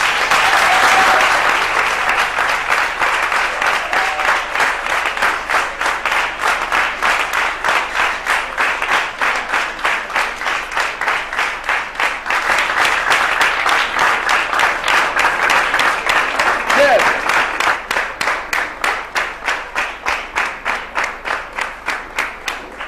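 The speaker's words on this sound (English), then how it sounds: "Parents, let us clap our hands to our brilliant student" A crowd of parents at a school event applauds a student, with loud, sustained clapping that lasts throughout without letting up.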